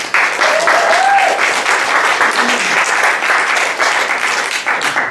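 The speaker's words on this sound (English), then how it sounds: "So let's give a big round of applause to Abby." Audience at a university media literacy event applauds a guest speaker, a full, sustained round of clapping at close range, with a brief voice heard early on over it.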